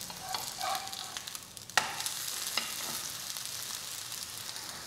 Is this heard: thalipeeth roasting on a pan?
yes